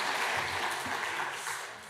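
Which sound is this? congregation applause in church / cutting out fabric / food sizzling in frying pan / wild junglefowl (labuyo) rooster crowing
congregation applause in church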